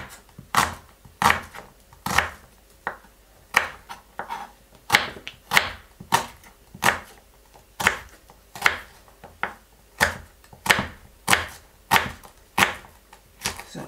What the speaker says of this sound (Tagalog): Hiwa po tayo ng onion.